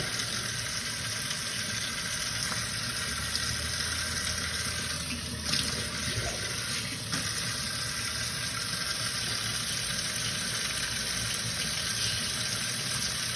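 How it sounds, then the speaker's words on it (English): Whey from hot homemade cheese curds draining into a sink, making a steady running-water trickle that continues evenly and alone throughout. "you want to separate all that whey, that yellow water, that milky water from it"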